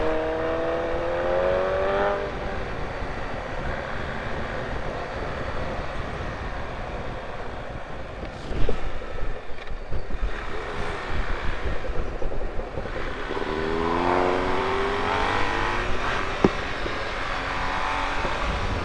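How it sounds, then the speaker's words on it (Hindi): A car speeds away along a road during a road-rage incident, its engine roaring and revving loudly and steadily with rising surges, close by and mostly without voices. "वो गाड़ी भगा रहा है"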